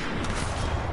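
Rapid gunfire from a first-person shooter video game, a dense continuous burst of loud overlapping shots filling the whole second with no pauses.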